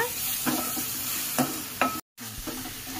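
Ginger garlic paste fries in hot oil for crab curry, a steady close sizzle broken by a few scraping stir strokes, with a brief silent cut near the end before the frying resumes; no voices.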